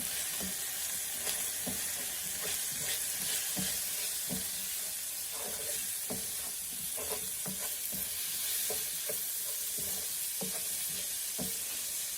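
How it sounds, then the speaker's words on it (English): Garlic and ginger sizzling in a frying pan as turmeric powder is stirred in, a steady close hiss of frying with scraping spoon strokes throughout, no voices. "Turmeric powder. Give that a stir."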